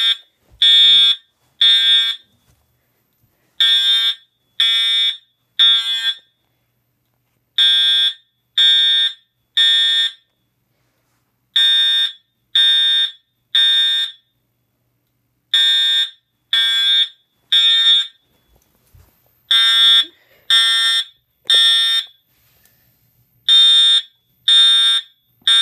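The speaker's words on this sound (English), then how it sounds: "So I got an Integrity Horn Strobe" A loud electronic fire alarm horn strobe, an Integrity model, blares in repeated bursts, groups of short pulses separated by brief silences, with no voices.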